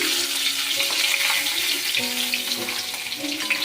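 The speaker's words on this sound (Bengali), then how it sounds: "এই মাছগুলোও আমার লাল লাল করে ভাজা হয়ে গেছে" Rupchanda pomfret pieces fry in hot oil, a dense, steady sizzle with crackling bursts close by, running without talk.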